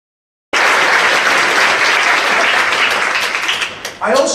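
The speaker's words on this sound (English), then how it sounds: "Let's give them all a round of applause." A large crowd at a city address bursts into applause after silence, loud sustained clapping that thins briefly near the end before a voice begins speaking over it.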